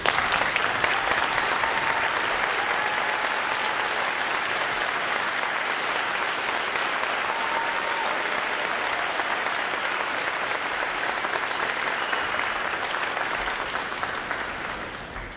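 Sustained audience applause for veterans at a U.S. Navy Recruit Training Command graduation, a large crowd clapping continuously and evenly, tapering slightly at the very end.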